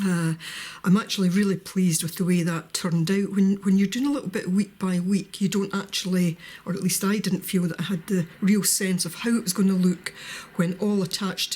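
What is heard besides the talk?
No everyday noises stand out.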